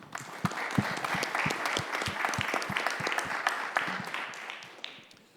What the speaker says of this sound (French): je pense qu'on doit les applaudir